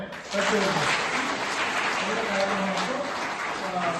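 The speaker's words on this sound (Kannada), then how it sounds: "ಫಸ್ಟ್ ಜೋರಾದ ಚಪ್ಪಾಳೆ" Loud applause from a crowd at an award ceremony honouring officials, teachers and social workers in Mandya, continuing as a dense, sustained roar of many clapping hands.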